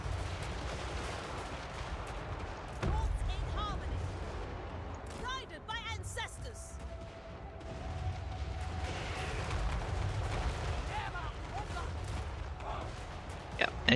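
Unit gunfire crackles through a Total War: Warhammer 3 battle, with Cathayan forces and hand cannons firing in scattered, sustained volleys over a dense battle din, while someone talks throughout.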